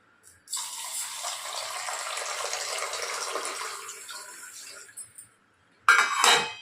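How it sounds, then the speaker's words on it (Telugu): Water pours steadily into a vessel of ragi (finger millet) grains for overnight soaking, a continuous gushing splash lasting several seconds, then stopping, followed by a brief clink of metal. "దీంట్లో నీళ్ళు పోసుకొని నైట్ అంతా నానబెట్టుకోవాలి"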